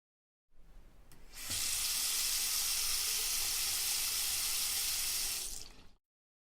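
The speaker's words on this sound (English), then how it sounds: "I wash the tomatoes and the onion." A kitchen tap runs at full flow while tomatoes and an onion are washed under it, a steady loud hiss of water lasting several seconds before it is shut off.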